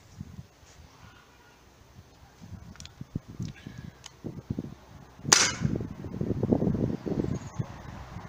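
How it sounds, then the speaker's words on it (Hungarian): A single sharp air gun shot cracks out at close range, loud and sudden, after a stretch of quiet handling noises and rustling. "közvetlen közelről lesz egy lövés leadva."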